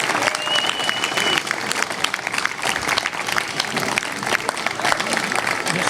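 Sustained applause from an audience following a recited duel performance, dense steady clapping filling the whole stretch, loud and close, with some voices mixed into the crowd.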